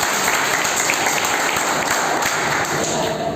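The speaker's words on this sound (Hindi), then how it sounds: "शाबाश, तालियां बजाओ सभी लड़के इनके लिए।" Boys in a physics classroom clapping for a classmate during a chess-based lesson, a dense, steady wash of applause from many hands, loud and close, with no talk over it.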